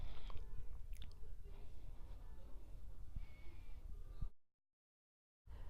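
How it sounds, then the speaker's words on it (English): Crisp crunching bites and close chewing of a cracker, soft and near, ending in a brief silence. "I'm going to take a bite of my cracker"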